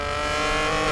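A modified BMW G80 M3 tuned by Tom Wrigley Performance to about 1,039 horsepower makes a steady, loud engine drone that holds its pitch, heard alone on a test track.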